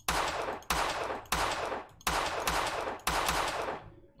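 Gunfire from a Unity shooter game test, five or six sharp synthetic shots fired in a steady, evenly spaced rhythm, each with a hard attack and short decaying tail, loud and close with no talk over them.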